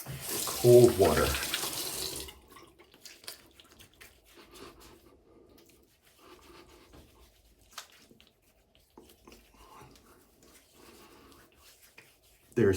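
A tap runs in a sink for about two seconds, a brief gush of water, followed by quieter small splashes and handling sounds.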